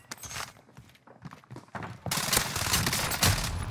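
Rapid automatic bursts from a Fennec submachine gun in Call of Duty on Rebirth Island, starting as scattered clattering shots and footsteps and swelling into dense continuous firing near the end.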